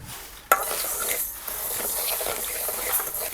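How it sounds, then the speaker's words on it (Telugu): Mustard seeds fry in a pan over a wood fire, giving a steady close sizzle and crackle with a sharp metallic clink near the start and light scraping throughout. "ఫస్ట్ ఇవి కట్టెల పొయ్యి మీద చేస్తున్నా, ఫ్రై చేసుకోవాలి."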